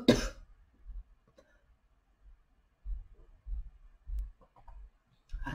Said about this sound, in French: je vais encore tousser.